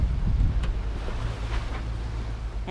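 A sailboat moves along the coast off Cabo San Lucas at sea, with a steady rush of wind and water noise close to the microphone.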